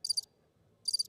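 Crickets chirp from a sound effect button during a pool match broadcast, two short bursts of rapid trilling separated by a brief quiet gap, clear and isolated with no talk.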